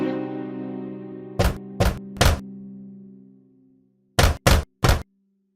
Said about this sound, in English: he came in front of the cottage and knocked on the door